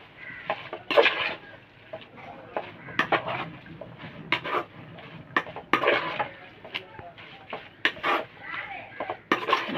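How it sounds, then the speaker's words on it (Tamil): Mint and coriander leaves are sautéed in a pot for mutton biryani, making irregular clattering scrapes and knocks of a ladle against the metal pot, with voices heard in between. "இதையும் நல்லா போட்டு இதில் வதக்கிடலாம்"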